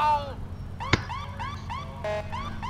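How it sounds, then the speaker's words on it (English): A synthetic police siren from GTA IV wails in repeated rising sweeps, layered with a steady electronic hum and one sharp click partway through. "I hear an alarm going off."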